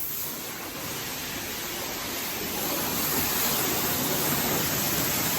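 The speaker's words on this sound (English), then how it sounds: "So soap, we're putting soap on it now." Steady high-pressure spray of soap onto a car at a self-service car wash in Calgary, a continuous broadband hiss that swells slightly louder midway and runs unbroken throughout.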